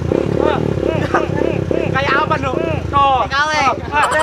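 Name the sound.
motorcycle engine running, rattly like a tin can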